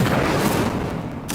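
Incendio fire spell cast in Hogwarts Legacy, a dense rushing whoosh of flame with crackly low rumble, loud and sustained for a moment before tailing off.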